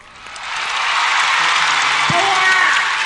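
Concert audience breaks into applause, the clapping swelling within the first second into a steady, loud wash of many hands that holds to the end, with a voice briefly audible underneath.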